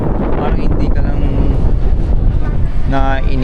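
Strong wind blows at Montemaria, buffeting the microphone with a loud, continuous rushing roar. Faint voices are buried underneath.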